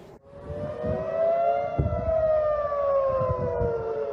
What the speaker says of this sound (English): the air raid siren sounded and Israel's missile defense system intercepted a number of incoming rockets